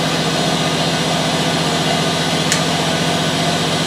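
Spectrum Technologies Capris 60 laser wire marking machine feeding wire under manual control, a steady mechanical hum with a low motor drone throughout and one brief sharp click partway through, no voices.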